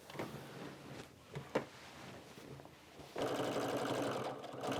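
Sewing machine stitching down the side of quilt-as-you-go blocks: a soft rustle of fabric handling with a few knocks, then a steady, continuous mechanical whir starting partway through.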